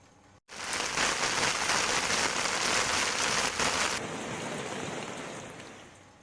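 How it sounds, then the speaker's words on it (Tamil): Heavy summer rain falls in Tamil Nadu as a loud, continuous roar of drops hitting surfaces, easing slightly toward the end. "சுமார் அரை மணி நேரத்திற்கும் மேலாக கனமழை பெய்தது"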